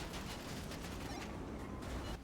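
Rapid bursts of gunfire during a GTA roleplay shootout, dense continuous popping and crackling throughout without a break, loud and close.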